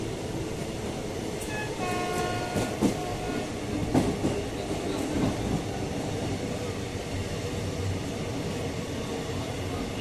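The 53178 Down Lalgola–Sealdah passenger special runs through Agarpara station without stopping, a steady rolling rumble and wheel clatter with a short horn blast early on, heard from on board.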